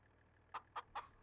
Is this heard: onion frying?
no